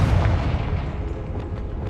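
A Confringo fire spell in Hogwarts Legacy goes off as a deep, rumbling blast that starts loud and decays over almost two seconds, with no voices present.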